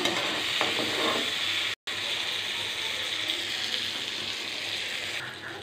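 Pointed gourd, fried red, is lifted from a pan of hot oil. A steady loud sizzle fills the whole stretch, with scraping, clicking utensil sounds and one brief break in the middle.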